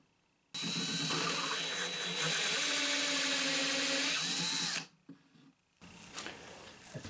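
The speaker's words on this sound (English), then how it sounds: "And then I change it to a regular drill bit." A drill whines loudly and steadily into the wood of a 1997 Gibson Dove acoustic guitar for several seconds, pitch dipping under load before stopping, followed by brief fainter rattling and handling noise.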